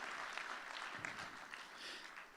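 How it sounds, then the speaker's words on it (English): Faint, distant applause from the audience at a children's aid charity benefit, a brief soft patter of clapping. "can we get a huge round of applause for all?"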